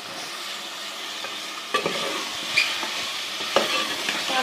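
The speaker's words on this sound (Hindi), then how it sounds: "अब हम इसमें शामिल कर देते हैं गोभी, थोड़ा सा भूनेंगे गोभी को साथ" Cauliflower frying in ghee with masala, a steady sizzle running under a few distinct scraping stirs of a spoon against the pan, close and moderately loud with no talking.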